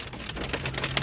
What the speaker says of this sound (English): The weather just took a major turn. It is so crappy. It is hailing.